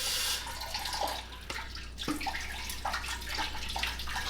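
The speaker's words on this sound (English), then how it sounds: "Using a little bit of water to rinse this out is always a good idea." Tap water running and splashing while rinsing out a water filter cartridge housing, a soft, close trickle with intermittent drips and sloshes.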